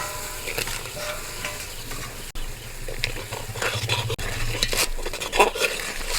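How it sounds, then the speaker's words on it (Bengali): Water bubbling in a pot for chicken momo soup, with a steady hiss and bubbling layered with scraping and clinking, like a spoon moving through the pot. Two sharp clicks cut in, and no one speaks. "জল ফুটতে শুরু করেছে"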